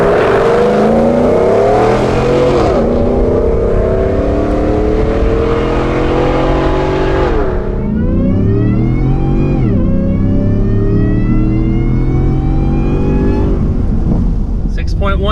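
A 750-horsepower Shelby F150 truck accelerates hard up a slight uphill grade. The loud engine pitch climbs in repeated sweeps, breaking at each gear shift, then roars on to the end.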